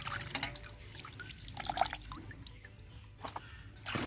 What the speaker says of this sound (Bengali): সামান্য লবণ দিয়ে আমি ধুয়ে নেব। তাড়াতাড়ি ধোয়া হয়ে যায় ভালোভাবে।